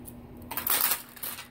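Keys jangle briefly on a keyring with a small battery-powered gadget attached, a bright metallic clinking that rises for about a second, close and fairly quiet.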